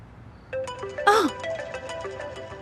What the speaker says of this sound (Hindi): मैं समझी कि मेरा फोन बज रहा है।